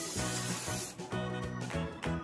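Hairspray is sprayed onto a curled cosplay wig in a few short hissing bursts, close to the microphone, with brief pauses between sprays.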